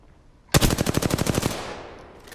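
A rapid burst of about a dozen automatic gunshots in Apex Legends, loud and close, firing for about a second before a decaying echo tail fades out.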